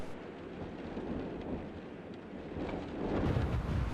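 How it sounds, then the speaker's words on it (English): Steady, broad wind roaring alone, with gusty swells that grow louder toward the end. "I decided to use a mix of 3 different wind sounds."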